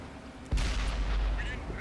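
A tank cannon in the World of Tanks game fires one sudden, loud, booming shot, with a heavy low rumble that lingers afterward under engine noise while a player talks.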